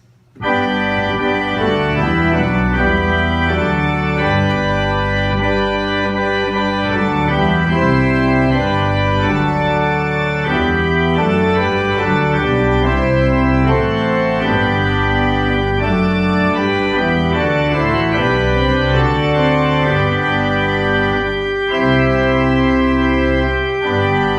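A slow, stately doxology hymn played on a sustained organ-like keyboard, full chords moving steadily, loud and continuous with no voices.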